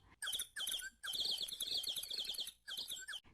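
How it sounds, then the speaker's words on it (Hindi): Birds chirp and tweet in several quick, busy bursts separated by short pauses, bright and fairly close, with no voices. "पक्षियों के बोलने की ध्वनियां"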